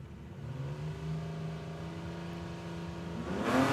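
LC Torana drag car accelerating down the strip at Warwick Dragway in Australia during no-prep drag racing, a distant engine drone rising steadily in pitch, then swelling louder at the end.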